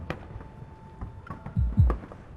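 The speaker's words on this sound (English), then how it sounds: "In the distance, fireworks burst to my heart's rhythm." Fireworks burst in the distance during a romantic evening scene in the game Love & DeepSpace, a few soft thuds and pops with two louder low booms near the end.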